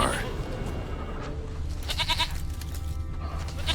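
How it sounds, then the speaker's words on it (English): A goat bleats in The Witcher 3, short wavering cries around the middle of the clip over game ambience, with a voice speaking at other points. "Here, goat."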